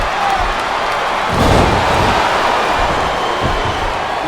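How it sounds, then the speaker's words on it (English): A large video game arena crowd in WWE SmackDown vs. Raw 2007 roars continuously, a dense wash of cheering that swells briefly louder partway through, with no clear voices standing out. "It sounds like this capacity crowd has something on their minds, Taz."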